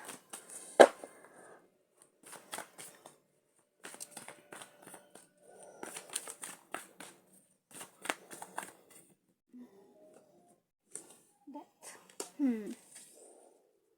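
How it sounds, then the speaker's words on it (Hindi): Tarot cards are shuffled and drawn close up in quick papery riffles and flicks, separated by pauses, with a voice talking quietly between them. "एक और कार्ड ले लेते हैं।"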